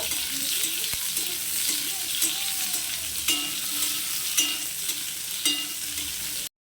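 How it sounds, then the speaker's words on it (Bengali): Continuous crackling sizzle of potatoes frying in a pan, broken by a few sharp scrapes of stirring; no voices. "ওদিকে আলুটা তো ভাজা হচ্ছে"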